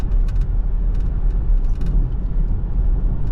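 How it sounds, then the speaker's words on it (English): A continuous rumble of a 2024 Chevrolet Equinox LS AWD driving, with a light, irregular metallic rattling from a license plate lying on the dashboard layered on top throughout. "that rattling you're hearing is the license plate that's laying on the dash right now"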